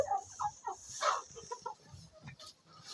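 Hens around a new nesting box cluck in quick, soft bursts throughout, several birds overlapping at moderate distance, with one brighter squawk partway through and a steady low background hiss.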